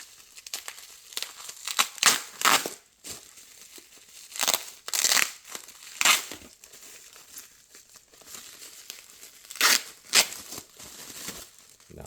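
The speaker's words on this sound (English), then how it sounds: "Got the bubble wrap and the beautiful paper underneath." Bubble wrap and paper are peeled from a mailed book package, making loud bursts of crinkling and tearing that come in separate handfuls with quieter gaps between them.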